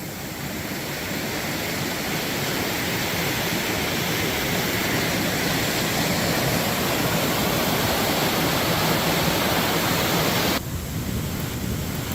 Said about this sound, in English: That's a pretty nice looking waterfall,